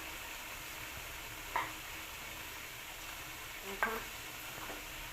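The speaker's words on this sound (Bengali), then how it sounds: "এগুলোকে একটু ভালোভাবে নেড়ে 1 মিনিট মতো লাগিয়ে নেব, মশলার সাথে ভালোভাবে কষিয়ে নেবে।" Lentils (mung and masoor), carrots and peas frying with spices for khichuri in a pan, a steady soft sizzle with a few brief scrapes of stirring, no talk.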